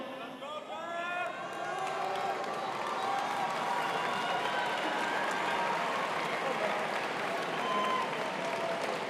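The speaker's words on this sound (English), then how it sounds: "Can we do a power clap?" A large commencement crowd at a college of engineering ceremony claps and cheers together, a dense, sustained roar of applause with some voices mixed in.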